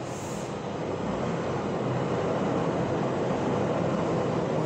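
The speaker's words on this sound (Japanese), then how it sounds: "今ちょっと電車が通ってるんで。" A train rumbles past steadily, a continuous low roar and rolling rail noise holding at a constant level throughout, fairly close and without any talking over it.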